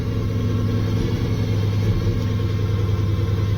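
An old car engine idles steadily while warming up, a low, even rumble that holds constant, close and alone, with no change in pace.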